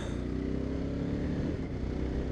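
A 2024 Indian Scout 101 motorcycle engine roars loudly and steadily as it accelerates, a dense throaty drone with no voices.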